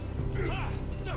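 Horse hooves clip-clopping in Telltale's Game of Thrones, a soft steady beat under a low ambient drone, with a voice speaking over it.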